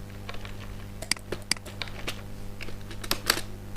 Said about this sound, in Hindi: मैं उसके लिए एस्केप प्रेस करता हूँ